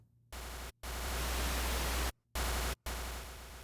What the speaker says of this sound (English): So that's what that white noise sounds like.